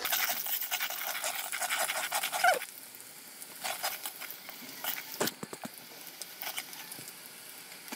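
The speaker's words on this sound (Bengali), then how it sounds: "পেঁয়াজটাকে হালকা বাদামি কালার করে ভেজে নিচ্ছি।" Onions fry in a pan with cardamom and cinnamon for a biryani. A hissy sizzle fades after a couple of seconds into quieter scattered stirring and scraping sounds.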